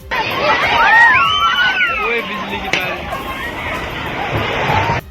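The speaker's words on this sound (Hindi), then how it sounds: "वहां मौजूद लोग दहशत में आ गए और वहां से भागते दिखे" People scream and shout in panic as a landslide brings part of a mountainside down onto a road, a loud, rising crowd of wailing voices and hubbub with rough background noise throughout.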